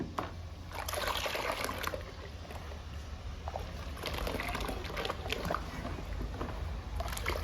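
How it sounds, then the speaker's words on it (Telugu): Aloe vera paste is stirred into a large batch of water to make a plant tonic, giving continuous close sloshing and trickling, with the splashing surging unevenly as the liquid is worked. "అలోవెరా పేస్ట్ని వాటర్ని కలుపుకుందాము"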